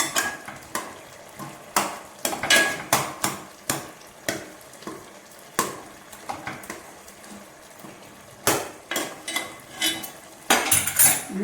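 A spoon mashing cooked chicken sambar in a pot, a series of close, irregular metallic scrapes and knocks against the pot, repeated every second or so, with no one speaking.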